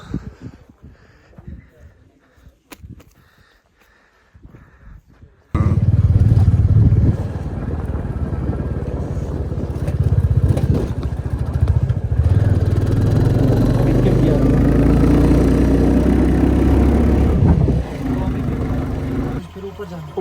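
A motorcycle in Kaza, Spiti, fires up suddenly after a stretch of quiet background chatter, then settles into a loud, close, throbbing idle with small revs while people talk nearby.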